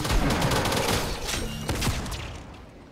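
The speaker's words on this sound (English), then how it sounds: "Time for minigun, man" A minigun roars in Fortnite in Gotham City, a rapid continuous burst of gunfire that is loud and close for about two seconds and then tails away.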